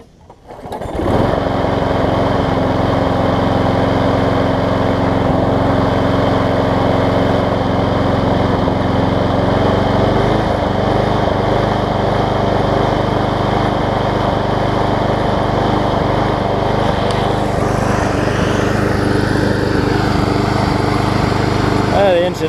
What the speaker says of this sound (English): The engine is hunting just a little bit.